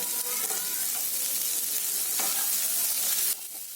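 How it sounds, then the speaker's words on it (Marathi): Carrots frying in a pan for a Marathi aamti curry, giving a steady, loud, close sizzle with faint stirring that eases slightly near the end; no talking. "आता याच्यामध्ये आहे ना मी गाजर टाकते."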